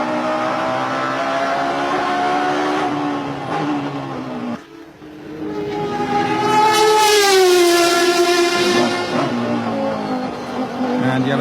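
A Toyota TS010 sports prototype racing at Le Mans in 1993 roars loudly from onboard, the high-pitched engine climbing through the gears, dipping briefly on a lift, then screaming back up under acceleration.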